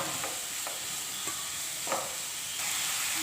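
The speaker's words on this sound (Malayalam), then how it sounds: "നമുക്കിത് നന്നായിട്ടൊന്ന് വറുത്തെടുക്കാം" Onions with a little salt fry in a pan, a steady hiss of sizzling oil broken by a few soft scrapes of stirring, close and continuous with no voices.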